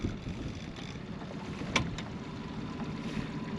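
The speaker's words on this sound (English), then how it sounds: "So I'm just trolling really slowly." Small outboard boat motor trolling as slowly as it will go for walleye on a windy lake, a steady low drone with wind and water noise and a brief clatter midway.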